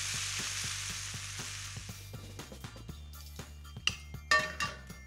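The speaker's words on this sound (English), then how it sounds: "Cooking the onions and the juices left over from searing the beef is another major flavor booster" Onions sizzle in the leftover juices from seared beef for a slow cooker cinnamon pot roast, a steady close-up fry with a few louder crackles and utensil knocks near the end.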